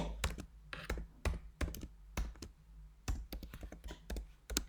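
Typing on a computer keyboard: quick bursts of close, crisp key clicks in an irregular rhythm, with short pauses between groups of keystrokes in a quiet room.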